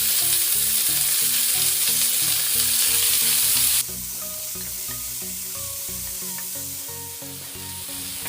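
Four large onions frying in hot oil with urad dal and fennel for a brinjal and drumstick curry, a steady crackling sizzle with louder spatter at first, then a softer continuous fry under faint background music.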